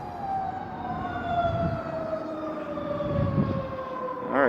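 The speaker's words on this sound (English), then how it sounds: "Oh, there's an ambulance." An ambulance siren passes an army surplus scrapyard, its wailing tone dropping in pitch as it goes by, fairly loud and steady, with no talking.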